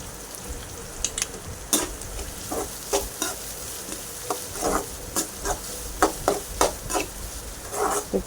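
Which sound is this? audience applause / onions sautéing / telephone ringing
onions sautéing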